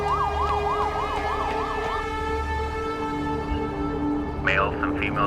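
Police sirens in the video game GTA 5 wail in a steady rising-and-falling pattern over a continuous engine drone for about two seconds, then fade, with a new burst of siren tones joining near the end.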